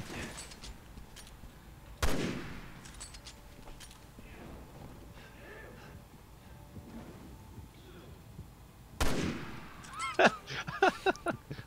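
Gunfire in the action game Resident Evil 6, two sharp loud shots spaced apart, followed by a rapid burst of cracks near the end, over quiet ambient game noise and faint voices.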